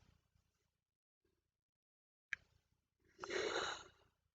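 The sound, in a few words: yawn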